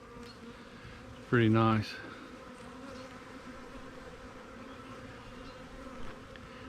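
Honeybees from a newly installed swarm hum steadily around their hive, a low continuous buzz with a brief spoken remark near the start.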